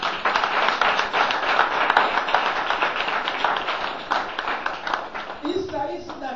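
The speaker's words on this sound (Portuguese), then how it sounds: "Queria que você aplaudisse ao Senhor." A church congregation applauds together, dense and steady clapping filling the space for several seconds, with a voice or singing rising near the end.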